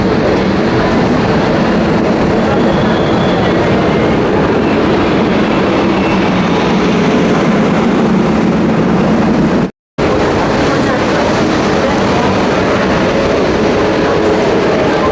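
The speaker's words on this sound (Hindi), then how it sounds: "और ये आ चुका है पीछे वाला लोकोमोटिव।" Amrit Bharat Express passenger train running at speed, with a steady loud rumble and rolling wheel noise throughout. The rear locomotive never stands out, and a brief dropout cuts the sound near the end.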